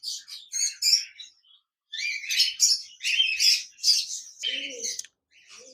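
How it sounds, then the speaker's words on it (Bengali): A pair of caged budgerigars, kept as a breeding pair with a chick, chirp and chatter in rapid bursts of high, bright warbling, close by, with one short pause and a softer low call near the end. "এখানে দেখতে পাচ্ছেন এক জোড়া বাজরিকার পাখি রয়েছে, রানিং পেয়ার, এদের সাথে বেবি রয়েছে।"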